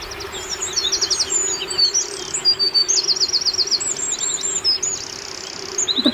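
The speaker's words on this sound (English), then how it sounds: "The birds are so loud." A lively chorus of songbirds chirps and trills loudly outdoors in the Scottish countryside, with rapid repeated high notes arriving in clustered bursts over a constant low background hum, and no one speaking.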